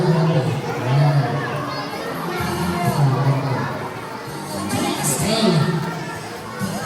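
A crowd in a longest-shout game yells together in a sustained, loud, noisy roar over several seconds, with children's voices and scattered cheering mixed into the shouting.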